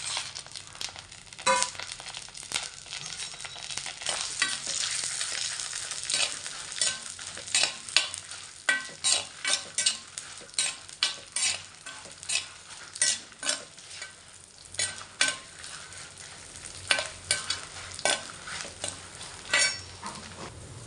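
Dried chilies and chana dal frying in hot cold-pressed gingelly oil, a continuous close sizzle broken by repeated rhythmic scraping stirs that grow more distinct toward the end.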